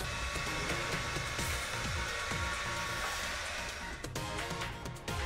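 A Beurer HT 50 multistyler blows air on its cool shot setting, giving a soft, steady whirring hum with a faint motor whine that ends in a brief click.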